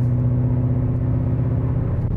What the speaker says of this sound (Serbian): U sport režimu još dodatno se pojačava zvuk.